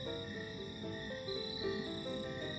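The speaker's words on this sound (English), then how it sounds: "you can calculate the temperature by counting the number of chirps from the crickets" Crickets chirp outdoors at Cape Cod National Seashore in Wellfleet on a September evening, a steady, dense chorus of overlapping trills at moderate distance with no talking.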